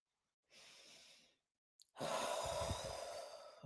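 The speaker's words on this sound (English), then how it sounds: "breathing out" Slow, deliberate breaths during a stretching exercise: a soft inhale, a short pause, then a long, loud, close exhale, with no talking.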